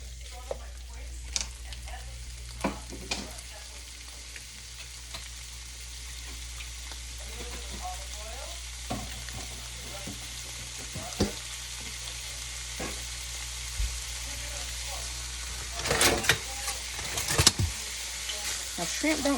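Raw, deveined, tail-off shrimp fry in a pan with a constant, even sizzle, scattered soft clicks and a burst of louder scraping and clattering near the end.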